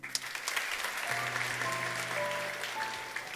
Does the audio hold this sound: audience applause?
yes